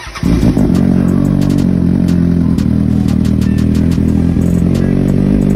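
A Kawasaki Ninja ZX6R motorcycle engine cranks and fires up, then settles into a loud, steady idle close by, with a light rattling clatter over the continuous engine hum.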